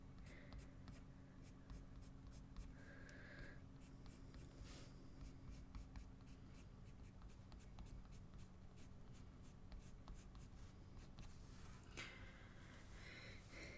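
Prismacolor colored pencils scratching steadily across paper while coloring hair, a soft continuous near scribbling with short strokes and brief pauses, no talk.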